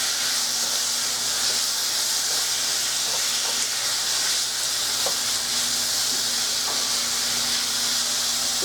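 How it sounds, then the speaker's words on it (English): Mixed vegetables sautéing in a pan with onion powder, a steady broad sizzling hiss throughout with a few faint clicks, no talking. "get that sauteed up really good. Let that saute"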